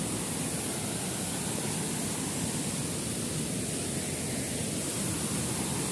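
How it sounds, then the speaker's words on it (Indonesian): A waterfall at a village tourist site, a dense, constant roar of falling water filling the whole clip with steady broadband rush and no pauses. "Guys, inilah air terjun Bloksen."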